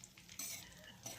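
Dried red chillies and a five-spice tempering fry in ghee for Odia dalma. The sizzle is quiet and steady, swelling briefly when the pan is stirred, with no talking.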